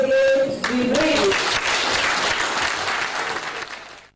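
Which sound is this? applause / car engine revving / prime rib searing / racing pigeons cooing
applause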